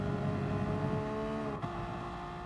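Race car engine held at steady high revs through a corner as the driver comes off the brakes and counter-steers against oversteer, with a brief dip in the note partway through, heard alone.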